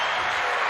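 Short burst of steady applause from a small group during a mindset session, dense and continuous for under a second.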